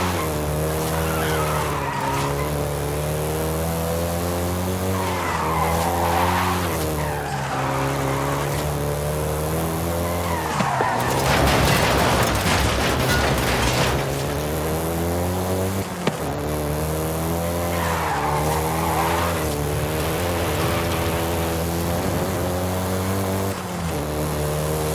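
Volkswagen Golf GTI in Forza Horizon 5 with a continuous engine drone whose pitch rises and falls through gear changes, and a loud burst of tire screech and skidding midway. The sound is close and steady, with no voices.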